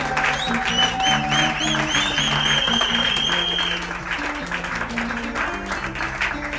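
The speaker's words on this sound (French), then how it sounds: "Est-ce qu'on peut encore acclamer pour eux?" Applause from an audience at a church gathering, a dense wash of clapping over loud music with sustained tones and a steady bass line, the crowd noise continuous throughout.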